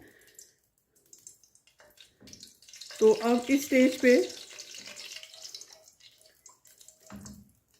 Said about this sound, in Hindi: इनको घी में कड़कड़ा लेते हैं।